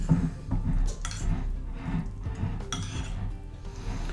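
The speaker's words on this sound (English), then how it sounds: "Take your grated cheese, get that all in there nice, work it in" Grated cheese being worked by hand into a calzone filling in a bowl, giving soft, steady clinks and scrapes of utensil against the dish, close up and continuous with no talking.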